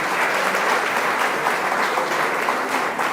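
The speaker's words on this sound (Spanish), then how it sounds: "Un aplauso para Juan Diego." Dense, even applause fills a church as a congregation welcomes Juan Diego after his baptism, a continuous wash of many hands clapping with no pauses and only faint voices beneath.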